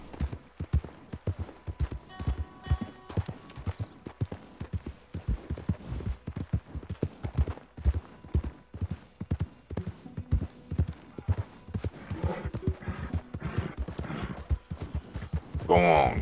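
Horse hooves clip-clop steadily in Red Dead Redemption 2, a rhythmic trot running throughout at moderate volume, with voices talking over it and a brief whinny-like flourish near the end.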